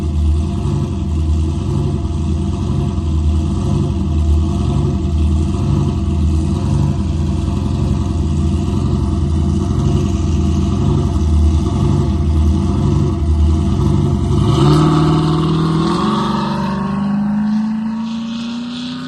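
A car idles with a loping, pulsing engine rhythm on a drag strip, then revs and pulls away hard near the end. Its engine pitch climbs sharply as the loud, close sound begins to fade.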